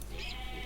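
A short goat bleat from the video game Age of Mythology, a single brief nasal cry, fairly faint and alone.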